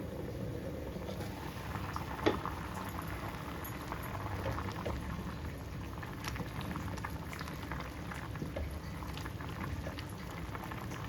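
Mango pulp porridge (maangai koozh) bubbles in a pot at a continuous rolling boil, a dense, even burble of popping bubbles heard up close, with one brief sharper knock early on.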